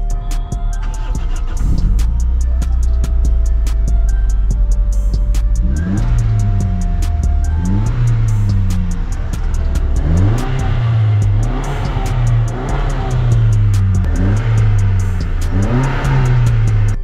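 A 2000 cc motorcycle engine on its stock exhaust, with no aftermarket pipe, idles with a deep rumble. Around six seconds it starts repeated rising revs, loud and close, with no talk over it.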